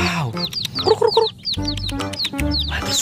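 Colorful rainbow chickens cluck and squawk up close in a rapid, chattering series of calls, loud and busy with overlapping bird voices and no talking.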